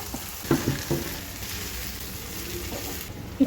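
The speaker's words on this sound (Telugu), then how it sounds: "అల్లం వెల్లుల్లి పేస్ట్ వేసుకోవాలి పసుపు వేసుకోవాలి ఒకసారి కలిపి వంకాయ ముక్కలు వేసుకోవాలి" Eggplant pieces frying in a pan with ginger garlic paste and turmeric, a soft continuous sizzle with a few stirring knocks near the start.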